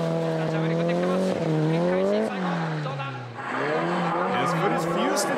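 Nissan S15 drift car at a D1 street-legal event, engine revving with shifting pitch as it accelerates and slides, tire squeal rising later, with a commentator talking over it.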